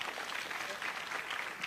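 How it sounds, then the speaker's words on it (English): Mourners at a memorial celebration for the late Hon. Maina Wanjigi in Nyeri clap for family members being introduced: a steady patter of applause from a gathered crowd, fairly soft and continuous throughout. "Please give them a clap."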